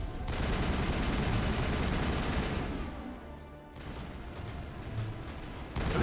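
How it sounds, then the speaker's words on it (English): Rapid gunfire rattles through a Mass Effect firefight, sustained bursts of shots and automatic fire crowding together, dipping briefly midway before resuming loud and close. "What is he shooting at?"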